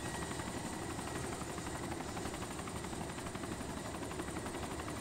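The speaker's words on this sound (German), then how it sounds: "Ach, das war der Heli! Er ist losgeflogen" Helicopter in the video game ArmA 2, a steady, dense rotor thrum and turbine whine holding evenly throughout, fairly quiet and with no talk.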